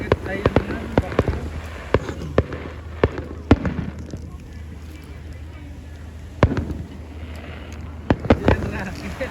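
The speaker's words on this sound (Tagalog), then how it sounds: "Tingnan mo. Fireworks yan." Fireworks bang at a beach at night in a series of sharp, loud cracks and booms spaced irregularly, some close together, with background chatter and low ambient rumble between them.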